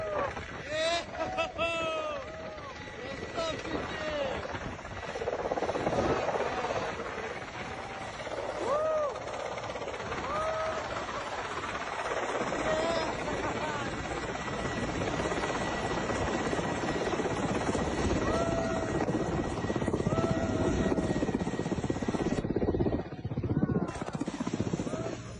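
A helicopter flying with its rotor blades spinning gives a loud, continuous rotor drone and buzz that swells slightly over time, with voices talking over it.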